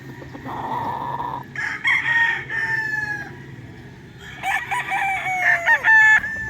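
A Gilmore straight comb gamefowl rooster crows on a game farm in Tanauan, Batangas, with two loud, close crows over a low background hum and a few clucks.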